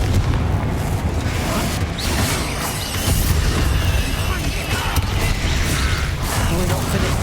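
A Confringo spell blast in the Hogwarts Legacy video game, heard as a loud, dense rumbling boom that sustains with crackling debris and mechanical noise for several seconds.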